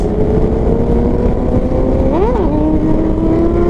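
A motorcycle engine roars loud and close during a wheelie, holding a steady drone before a quick rising and falling rev, then settling into a lower steady pitch.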